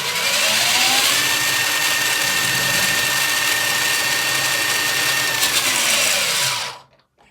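An RC Clodbuster monster truck's electric motor revs up on stands, a loud high whine with a steady pitch that holds for several seconds before cutting off sharply and going quiet.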